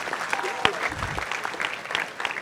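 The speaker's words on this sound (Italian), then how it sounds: "un applauso Alessia" Brief applause from a conference audience at a job day event in Cagliari, a short burst of mixed clapping with individual sharp claps standing out and murmured voices underneath.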